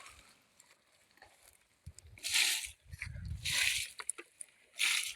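Quiet background broken by three loud bursts of irrigation water sloshing and splashing from a 3/4-inch pipe onto tomato and string bean plants, spaced about a second apart, with small drips and knocks between.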